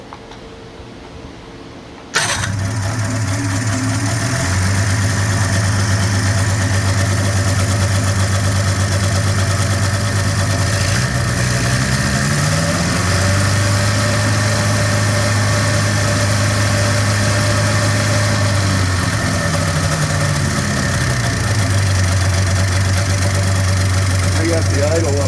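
A 1996 Polaris Classic 500 snowmobile engine starts abruptly and then idles steadily and loudly nearby, its pitch drifting slightly up and down as the idle is adjusted.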